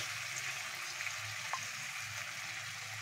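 Chicken and fried potatoes sizzle steadily in a pan, a soft continuous frying hiss with faint crackles and no talk.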